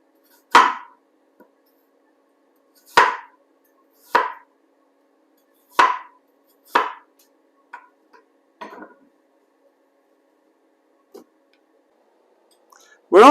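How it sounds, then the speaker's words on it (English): Apples being sliced thickly by hand with a knife, heard as a handful of sharp, separate cuts at uneven intervals, close and fairly loud against a quiet background, with a few softer taps between them and no talk. "And so Nige is slicing the apples, thickly sliced"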